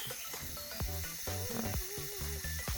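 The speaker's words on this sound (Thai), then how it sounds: "ทีนี้กดชัตเตอร์ปุ๊บ" A Yashica GL camera shutter fires with a crisp mechanical click, followed by a brief whirring, ratcheting self-timer mechanism, close and quiet.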